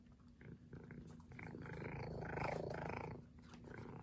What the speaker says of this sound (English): you guys all have to hear the loud purring of my daughter's cat